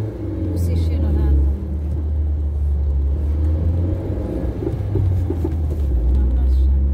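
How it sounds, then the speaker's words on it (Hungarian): A bus approaches along a road, a deep engine rumble that swells and holds steady nearby, with voices talking over it. "Busz is jön a látom."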